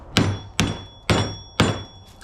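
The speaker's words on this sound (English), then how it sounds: "I always give them a good whack with the hammer by itself first" Four sharp metallic hammer strikes on a scrap light ballast, evenly spaced about half a second apart, each ringing briefly before the next, loud and close with no talk.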